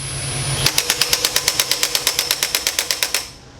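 A Milwaukee M18 Fuel mid-torque impact driver on its lowest setting hammers a bolt in with a rapid, even series of about twenty sharp impacts, close and loud, after a brief motor whir, then winds down.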